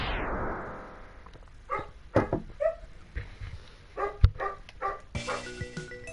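A pet dog barking and yipping in the room during a Mega Man X2 game session, several sharp barks and whimpers spaced irregularly, with game sounds around them.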